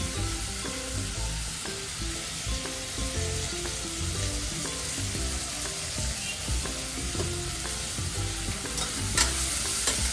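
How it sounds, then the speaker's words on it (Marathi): Onion, salt and turmeric sautéing in oil for a spicy mutton curry, a steady dense sizzle with faint stirring scrapes underneath, continuous and close, with no talk. "तर मी याला छान असं तेलात परतून घेणार आहे. थोडा कांदा लालसर होईपर्यंत."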